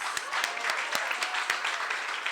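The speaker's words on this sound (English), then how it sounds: "Let's give a round of applause again to our awardees." An audience at a political congress plenary claps for awardees, with a dense, even wash of applause and a few sharper individual claps standing out, loud and continuous throughout.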